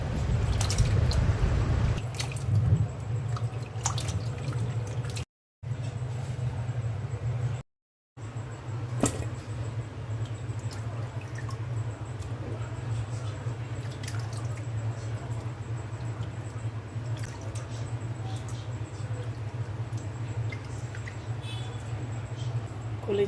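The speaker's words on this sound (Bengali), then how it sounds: "কলিজাটা ভালো করে ধুয়ে নেব।" Boiled beef liver is washed with water in a home kitchen: soft drips, splashes and squishy handling run against a low steady hum.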